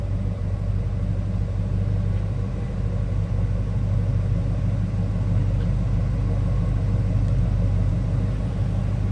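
A 1979 Chevrolet Camaro Z28 engine running steadily, heard from behind the car as a continuous loud low rumble with an even idle and no voices.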